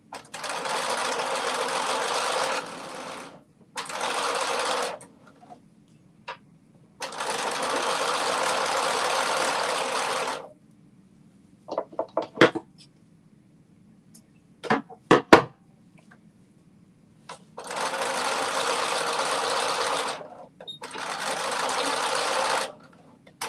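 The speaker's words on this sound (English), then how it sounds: "And then I will be sewing this top and the side as well." A sewing machine runs in several loud bursts of steady stitching along the top and side of a fabric piece, separated by pauses with brief clicks and handling sounds.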